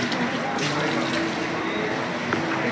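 Water being drawn and poured out in a short, continuous splashing gush, fairly close and steady, with no speech.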